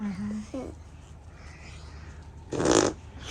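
A short, loud, blurting fart near the end of the clip, following a few brief vocal sounds at the start amid quiet household background.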